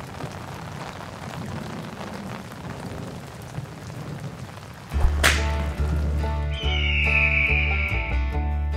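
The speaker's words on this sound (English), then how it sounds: "Well, it's raining again." Rain falls in a steady, hissing patter for several seconds. A sharp thunder-like crack then cuts in, followed by a low sustained drone and a fading high tone.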